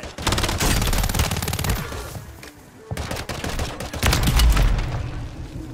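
Dense bursts of automatic gunfire with explosions in a Call of Duty battle royale match, loud and continuous, broken by a brief lull around the three-second mark before a heavier volley resumes.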